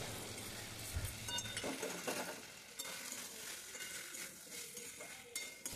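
Paneer curry being stirred in a pan with poppy seed and cashew paste, a soft scraping and faint sizzle with an occasional clink of the spoon against the pan, quiet and close.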